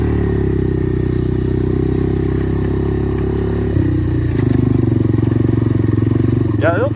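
A Honda ATC 250ES Big Red ATV plows in first gear with a loud, steady, close engine drone that shifts pitch midway as the load changes, with faint clatter throughout.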